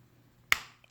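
One sharp, close click snaps out as an Otos Mach 2 battery cover is turned with a coin, followed by a short fading tail in otherwise near silence.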